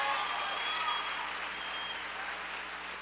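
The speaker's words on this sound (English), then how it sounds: "Another round of applause." Audience applause at a school competition awards moment, a steady, dense wash of clapping that stays fairly loud and even throughout, slowly easing off toward the end.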